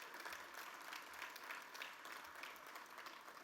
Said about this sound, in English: So please join me in a round of applause to welcome the students and thank those sponsors.